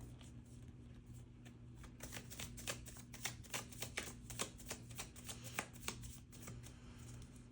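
Tarot cards shuffle and snap in a steady run of crisp, close riffles and flicks that grow denser and louder partway through, over a low constant hum.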